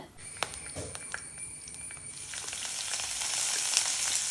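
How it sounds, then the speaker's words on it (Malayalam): Mustard seeds hit hot oil in a pan on the stove, giving a few sharp pops and crackles, then a sizzle that rises and steadies into a continuous close hiss. "എണ്ണ ഒഴിച്ചു കൊടുക്കുന്നുണ്ട് അതിലേക്ക് കുറച്ച് കടുക് മണികൾ പൊട്ടിക്കാനായിട്ട് ഇടുന്നുണ്ട്"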